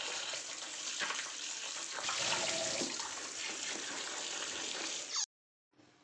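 Water runs and splashes steadily from a tap while pointed gourd, potato and tomato are washed under it, a close, continuous gushing with small shifts as the vegetables are handled, then an abrupt cut to silence near the end.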